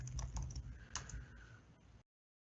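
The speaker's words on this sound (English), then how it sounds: "I go ahead and type in my name" A name typed on a computer keyboard, with a quick run of close, light key clicks that thin out to a few scattered taps before the sound cuts to silence, with no talk.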